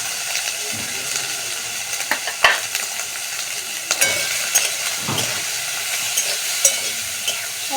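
Eggplant slices seasoned with salt and turmeric frying in a pan, giving a steady close sizzle broken by scraping, clattering stirs at irregular moments.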